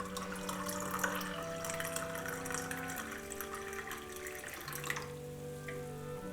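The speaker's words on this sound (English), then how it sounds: "Let's add another 6 ounces of hot water to our 14 ounces." Hot water poured into a cup, a steady close pouring splash whose pitch rises in steps as the cup fills toward the top.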